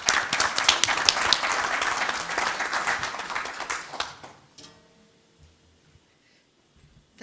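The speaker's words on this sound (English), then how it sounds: "Can we clap hands for them?" A conference audience at a human rights event applauds its panelists, a loud, sustained burst of many hands that fades after about four seconds into near-silence with faint room noise.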